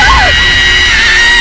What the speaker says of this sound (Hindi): वो लड़का घबराकर जोर जोर से चिल्लाते हुए भागने की कोशिश करने लगता है